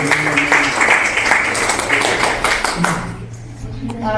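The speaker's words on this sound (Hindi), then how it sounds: "जोरदार ताली बजा दीजिए आप लोग" Audience applause at a retirement farewell for a chief pharmacist: dense, steady clapping from many hands fills the room for about three seconds, then thins out and fades as a voice starts up.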